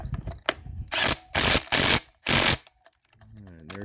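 A Snap-on 3/8-inch drive impact wrench snugs bolts on a 2008 Dodge Ram 3500 in several short, loud, close bursts of rattling hammering, separated by brief pauses, with a person speaking briefly at the end.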